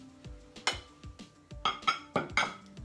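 A small plate is set down among clinking dishes while a seafood appetizer platter is assembled, giving several sharp ceramic clinks and taps in quick uneven succession, close and fairly crisp.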